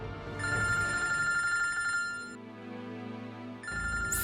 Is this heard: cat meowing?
no